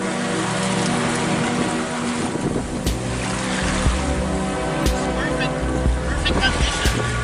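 A sailboat motoring under engine power with its sails down in a fair following wind: a steady low engine drone under wash of water and wind noise, with a person talking throughout.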